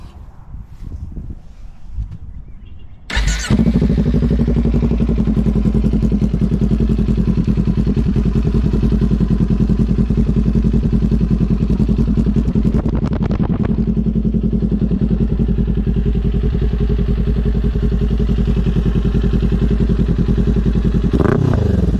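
Kawasaki Ninja 400 motorcycle with a Leo Vince slip-on exhaust starts with a sudden bark after a few seconds of faint clatter, then idles loud and steady close by with a deep throbbing note.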